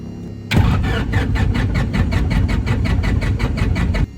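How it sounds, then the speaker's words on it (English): A small aircraft engine cranks and fires at close range, breaking from near silence into a loud, steady rhythmic engine chug that runs on evenly before cutting back sharply at the end. "engine start"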